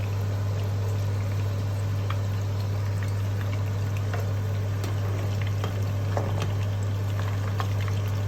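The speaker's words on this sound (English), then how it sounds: "I put these balls in the pan and I will deep fry them." Kofta meatballs deep fry in a pan of hot oil, a continuous bubbling sizzle with occasional faint pops, steady and close, under a strong low electrical hum and no talking.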